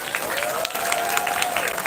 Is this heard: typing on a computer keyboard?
no